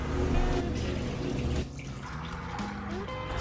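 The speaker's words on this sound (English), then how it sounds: "Strain out this water, give a quick rinse" Soaked red beans are drained of their soaking water and rinsed, giving a close, loud splashing pour that eases into a lighter trickle with clinks of the strainer.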